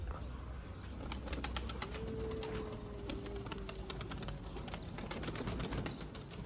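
A pigeon soaked by rain flaps its wet wings in a rapid, rhythmic flutter close by, with a faint drawn-out coo-like tone in the middle.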